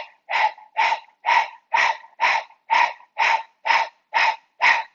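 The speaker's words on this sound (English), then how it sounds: "Begin your breath of fire if you know it." Rapid rhythmic breath-of-fire panting during a yoga breathing exercise, ten evenly spaced sharp breaths about half a second apart, close and clear with silence between each.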